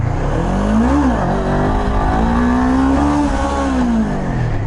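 Honda CB500F motorcycle engine revving hard for a wheelie attempt, a loud, close, steady roar. The pitch climbs near the start, dips, then rises and holds before falling away again.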